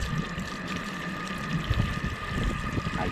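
Water running through a Guttermaster Pro 16-foot telescopic water-fed pole with a curved end, used outdoors on a gutter, makes a steady rushing, gushing flow that holds continuously at moderate loudness with no talk.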